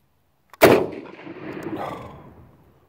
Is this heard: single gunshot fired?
yes